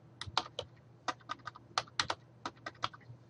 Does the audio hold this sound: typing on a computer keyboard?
yes